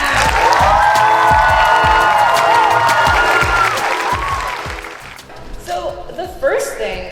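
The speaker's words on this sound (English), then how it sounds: "can I get a hand of applause for Technodad?" A convention panel audience at PAX East 2024 bursts into loud applause and cheering, with whoops and shouts over dense clapping that gradually fades toward the end.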